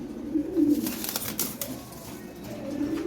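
Toy Lahore pigeons coo in low, throaty, repeated calls close by, with a soft rustle in between.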